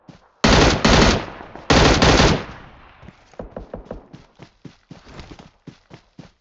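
Loud bursts of automatic gunfire in the mobile battle-royale game PUBG Mobile: two long sustained volleys followed by a string of sharp single shots and short rapid bursts, close and dominant.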